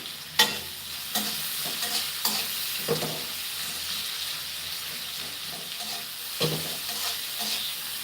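Onions frying with salt in a pan over raised heat give a constant close sizzle, broken by periodic scraping strokes of a spatula against the pan.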